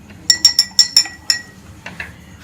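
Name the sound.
ice cubes dropped into a glass of mint lemon juice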